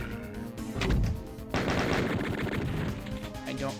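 Rapid chaingun fire from Doom chaingunner enemies rattles in loud bursts, with a short pause before a second sustained volley.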